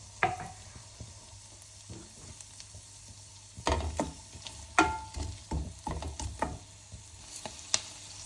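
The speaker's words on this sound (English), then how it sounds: "we're going to add our red onions into the pan and let them saute in that for a little bit" Red onions sauté in melted butter in a pan with a soft, quiet sizzle, broken by scattered stirring scrapes and clicks of a utensil against the pan.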